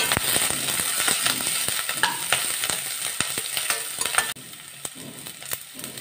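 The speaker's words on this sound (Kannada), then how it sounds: "ಚೆನ್ನಾಗಿ ಫ್ರೈ ಮಾಡ್ಕೊಬೇಕು" Garlic, ginger, cinnamon and cloves fry in a hot pan for lima beans sambar, with a dense, loud sizzle and crackle broken by spatula scrapes, dropping to a quieter hiss near the end.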